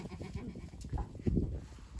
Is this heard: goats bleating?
yes